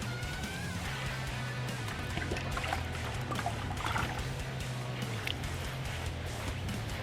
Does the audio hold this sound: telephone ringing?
no